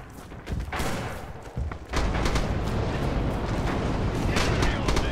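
A grenade explodes during a Red Orchestra 2 multiplayer battle on the Butovo map, with a few heavy thumps and then a loud, sustained blast and rumble of combat noise.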